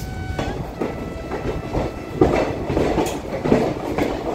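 A train at Mokama railway station on a foggy morning gives off a moderate rolling rumble with rhythmic wheel clatter and faint squeals, heard alone without talk.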